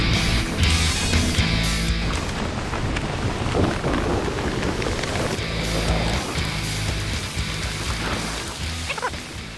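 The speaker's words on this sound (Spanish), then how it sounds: "Además, ha empezado una fuerte tormenta." Heavy thunderstorm on a mountain during a motorcycle trip across the Pyrenees, with steady loud rain and rumbling thunder rolling through the whole stretch, no voices.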